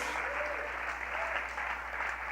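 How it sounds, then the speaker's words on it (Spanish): Congregation applauding during a church sermon, a dense, steady wash of clapping that stays even and moderately loud for the whole short span. "También apláudele al Padre."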